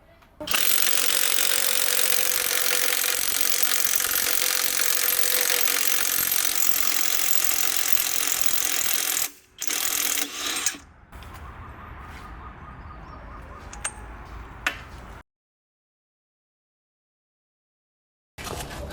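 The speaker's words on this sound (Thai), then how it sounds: "ตัวบล็อกกระเทกโลเบล7503สารถขันน็อตรถ 10 ล้อได้จริงนะครับ" A ROWEL 7503 cordless impact wrench loosens the wheel nuts on a ten-wheel truck, giving a long, loud, continuous mechanical hammering burst, then a short second burst and scattered clanks before silence.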